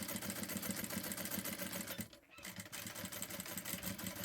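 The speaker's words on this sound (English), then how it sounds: "So I'm sewing the two ends together," A sewing machine runs steadily at a slow pace, stitching two ends of fabric for a headband together with right sides facing. The mechanical chatter is close and continuous, with a brief pause midway before the stitching resumes.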